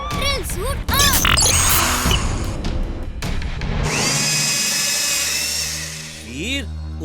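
Cartoon robot switching on a drill suit: a loud whirring, grinding mechanical transformation with clanks and a rising high-pitched whine, mixed with animated sound effects and a voice briefly calling out.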